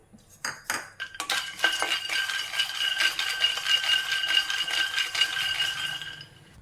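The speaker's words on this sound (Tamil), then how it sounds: "அதே கடாயில் ஒரு கால் கப் அளவு வறுத்துடலாம் இதையும் வறுத்து எடுத்துக்குவோம்" Peanuts dry-roasting in a kadai, a quarter cup tossed with a utensil, giving a steady close rattle of nuts and metal clinks after a few sharp knocks at the start.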